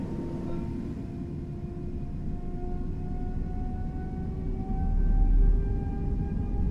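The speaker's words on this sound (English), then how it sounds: "that sound right there, and the engine sounds pretty good" Fenix A320 airliner engines in Microsoft Flight Simulator give off a steady, moderate hum with slowly rising whining tones, a low rumble swelling briefly near the end.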